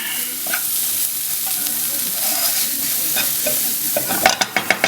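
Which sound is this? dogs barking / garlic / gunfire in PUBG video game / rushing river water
garlic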